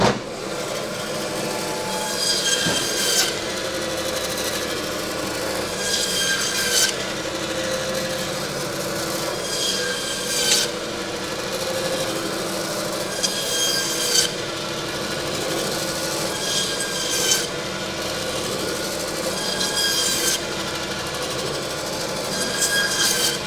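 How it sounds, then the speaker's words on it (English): A blade works through bone-in beef to cut porterhouse and T-bone steaks about an inch thick. A steady, close rasping scrape repeats in long strokes every few seconds, with no talk. "So now we're going to cut these about 1 inch thick. Let's cut Porterhouse and T-Bone."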